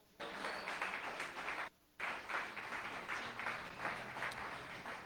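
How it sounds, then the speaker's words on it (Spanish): Congregation applauding in church during a sermon, a steady wash of many hands clapping with a short break partway through, fairly distant and diffuse. "puedan alabarlo con un fuerte aplauso"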